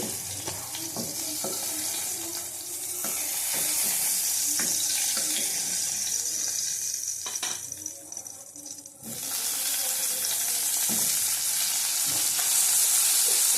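Pointed gourd (potol) pieces fry in a pan with a steady close sizzle, broken by scraping stirs and brief knocks of the spatula, the hiss dipping for a moment before resuming strongly.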